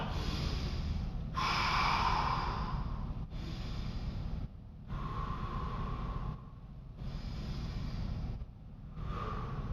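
Heavy, rhythmic breathing after a martial arts exercise, a run of loud, close breaths and snorts with short pauses between them and no talk.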